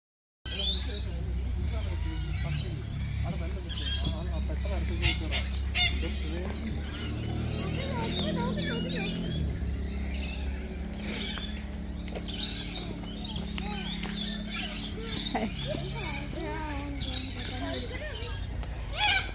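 Loud honking calls from a long-beaked bird repeat over steady background noise in Adelaide, Australia, with people talking nearby throughout.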